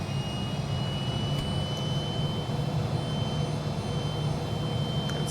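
Twin jet engines of a Fokker F28 at takeoff power in Microsoft Flight Simulator give a steady, loud, low roar with a faint high whine above it, unbroken and without speech.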